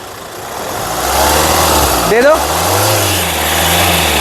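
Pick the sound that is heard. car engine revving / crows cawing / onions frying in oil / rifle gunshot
car engine revving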